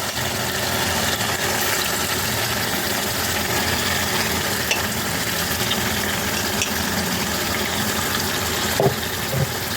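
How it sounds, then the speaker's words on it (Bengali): Chicken frying with spices in a pan for a dahi chicken dish gives a constant, dense sizzle that stays even and close throughout, with no one talking. "এবার আমি মাংসটাকে দিয়ে দেবো।"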